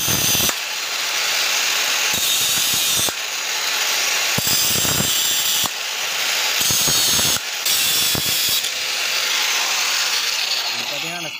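A power tool cuts through the steel spokes of a bicycle wheel hub in loud, sustained grinding bursts with short pauses between them, close and harsh.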